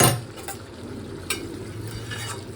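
Chicken cooking down in a pan sizzles steadily while a utensil scrapes and stirs it in a few distinct strokes, close by and without talk.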